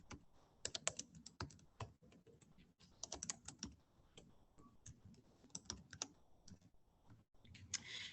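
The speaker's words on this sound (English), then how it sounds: "we're going to type in Relative Strength Index." Typing on a computer keyboard, close and quiet, irregular runs of rapid key clicks with brief pauses between bursts.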